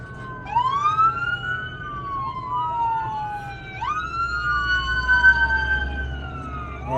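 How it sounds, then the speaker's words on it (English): Ambulance sirens wail in traffic on a road, with two overlapping wailing and yelping tones sweeping up and down, fairly close and steady over a low rumble of vehicle engines. "Alright, now we got ambulances."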